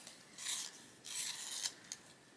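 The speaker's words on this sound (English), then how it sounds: "I do need to sharpen it." Quiet, scratchy scraping from a fern green colouring pencil being sharpened for adult colouring, in three short bursts separated by brief pauses, close up with no talking.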